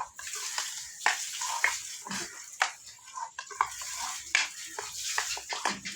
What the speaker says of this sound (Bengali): দেখো, ভালো করে এগুলি ফেটে নিতে হবে।